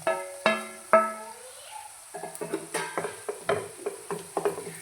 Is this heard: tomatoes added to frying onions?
yes